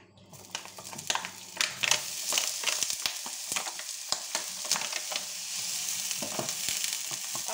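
Lardons hit a hot pan and start frying, giving a close, loud sizzle broken by sharp crackles and the scrape of stirring, then settling into a steady spitting hiss. No one speaks.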